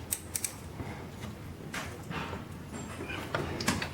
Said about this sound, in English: Now we'll snug the bottom bolt on up.